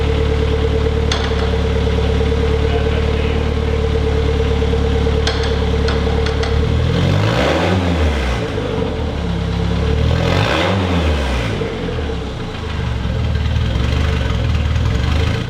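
Mitsubishi 4G63 engine idling loudly and close with a steady rumble, its tone swelling and dipping twice as the clutch is worked and gears are run through, with a persistent ticking note riding over the idle.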